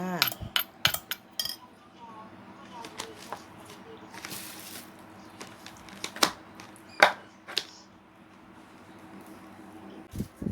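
Spoons clink and scrape against dishes while Thai cucumber and fresh shrimp salad is scooped out to serve, someone talking between the sharp, irregular clatters.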